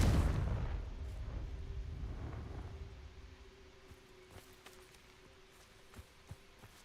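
A Confringo fire spell detonates in the video game Hogwarts Legacy with a loud boom at the start, then a long rumbling decay that fades into quiet game ambience with a few faint knocks.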